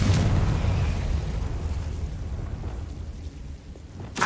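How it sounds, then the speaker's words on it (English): A Confringo spell explosion in the video game Hogwarts Legacy bursts with a loud boom at the start, then a rumbling decay fades away before a short sharp pop at the end. "Confringo."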